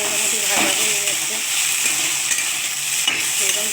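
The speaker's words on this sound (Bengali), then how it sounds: "দেখি ভেন্ডিগুলো ভাজা হলো কিনা।" Okra is stirred and fried in a pan in a home kitchen. A continuous loud sizzle and hiss runs throughout, with occasional scraping stirs.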